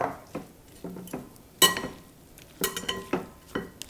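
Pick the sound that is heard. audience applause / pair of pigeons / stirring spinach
stirring spinach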